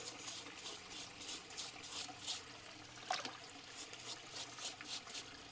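Water washing visible cement off freshly mortared stones while re-lining a garden pond: a soft, steady trickling and splashing wash, quiet and close, with no voices.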